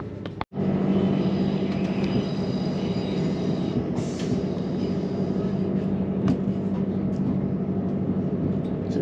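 A Southern passenger train rolls along the rails in London, a continuous rumble and clatter heard from on board with a faint high wheel whine and a brief dropout near the start.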